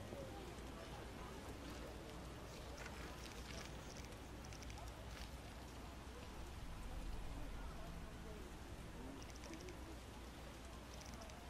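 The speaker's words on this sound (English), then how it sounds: "How sad when it rains." Steady rain falls in The Witcher video game, a soft constant hiss of drops on surfaces with faint scattered ticks, heard quietly throughout as low ambient background.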